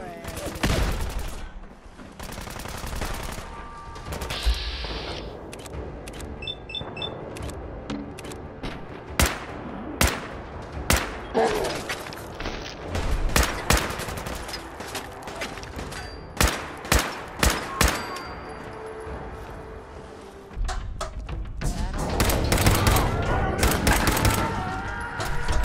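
Gunfire in Fallout 4 fills the scene, with sharp single shots and rapid bursts spread across a firefight and louder rumbling near the end.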